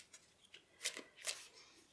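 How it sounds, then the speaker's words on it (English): Oracle cards being shuffled by hand in a quiet room, with a few soft riffling bursts and two louder, brighter card riffles partway through, near and with no talking. "So, shuffling the cards."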